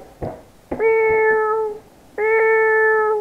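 A cat meows twice, drawn-out and clear, with a couple of soft clicks or taps before the first meow.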